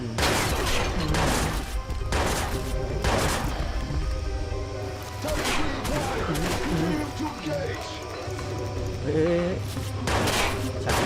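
Gunfire from the video game Watch Dogs: repeated loud shots in bursts under constant game noise, with someone talking excitedly over the action.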